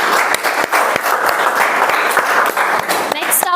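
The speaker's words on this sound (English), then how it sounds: "Let's have a round of applause, please." Loud, close audience applause fills a Toastmasters meeting room, dense rapid clapping from many hands sustained throughout with a few sharp claps standing out near the end.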